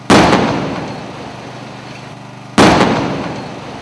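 Controlled explosive charges bring down a building in Jaipur: two sharp, loud blasts about two and a half seconds apart, each one decaying slowly into a rumbling tail.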